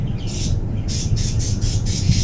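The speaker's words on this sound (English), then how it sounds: "Do apologise if you can hear the birds in the background." Sharp, repeated squawks from pet birds nearby, about seven harsh calls in quick succession over a low steady hum.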